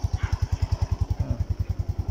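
A Yamaha Mio Sporty scooter engine idles close by with a steady, even putter of quick regular beats that holds throughout, with no talk.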